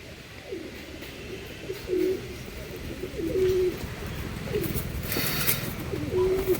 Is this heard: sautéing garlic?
no